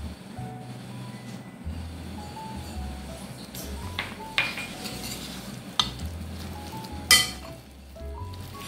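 Ground beef burger mixture being stirred and mixed by hand with a raw egg, giving soft wet squelching and a few light clinks against the bowl, close and steady, with faint background hum and no talk.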